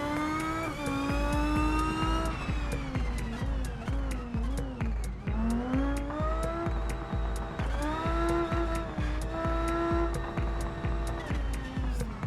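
A racing car engine in a video game played on a Cammus C5 wheel, revving in steady rising and falling whines through repeated gear shifts, loud and continuous, with a rhythmic thudding underneath.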